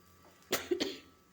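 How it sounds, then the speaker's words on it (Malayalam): A single short cough in two quick bursts, close and fairly soft, alone in a quiet room. "സോറി ചുമ"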